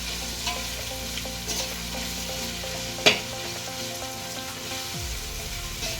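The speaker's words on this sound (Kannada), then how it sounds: "ಸ್ವಲ್ಪ ಕಲರ್ ಬರಬೇಕು, ಈರುಳ್ಳಿ ಕಲರು ಸ್ವಲ್ಪ ರೋಸ್ಟ್ ಆಗಲಿ." Onions and green chillies frying for chicken biryani, stirred in the pan: a soft, steady sizzle with occasional light scrapes and one sharp clack of the spoon.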